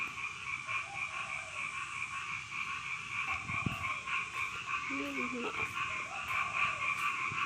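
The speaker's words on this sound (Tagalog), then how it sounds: "Tanghali na pero palaka maingay pa din." A steady chorus of frogs croaks continuously at midday at moderate distance, a constant layered drone with occasional nearer croaks.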